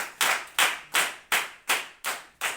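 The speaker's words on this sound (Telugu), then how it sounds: "చప్పట్లు కొట్టి ప్రభువుని ఘనత." A church congregation claps during a Sunday service, about seven sharp rhythmic bursts of hand claps in steady succession, loud and close, with no talking over them.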